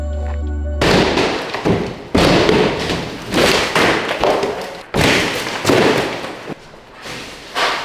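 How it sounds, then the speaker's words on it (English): Heavy thuds and crashes from office walls being knocked down during demolition, about six loud irregular impacts, each followed by crumbling debris, close and with no talking. "Started knocking all the walls down"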